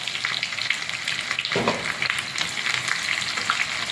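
Chopped red shallots frying in hot oil in a small tempering pan for a pumpkin curry, a dense, bright crackling sizzle with a burst of louder spluttering midway, close and steady.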